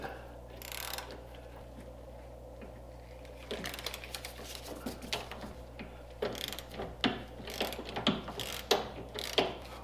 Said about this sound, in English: I'm using just a ratchet just because I think that's going to work easiest for me.